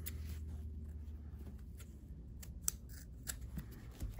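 Scissors cutting a fabric placemat strip, with quiet, close snips scattered over a soft room background.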